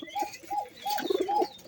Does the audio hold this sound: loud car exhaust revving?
no